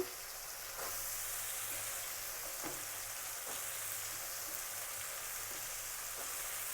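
Small prawns frying in a pan as potatoes go in, a steady dense sizzle that jumps louder after the first second and holds, with faint stirring taps scattered through it.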